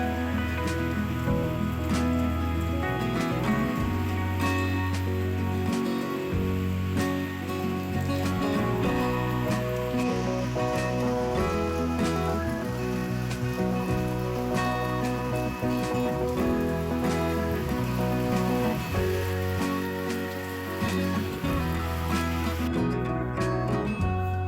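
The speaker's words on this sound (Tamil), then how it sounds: "மழை வந்து ஸ்டார்ட் ஆயிருச்சு" Evening rain falls steadily for a long spell, a continuous patter on surfaces mixed with a sustained tonal background and no voices.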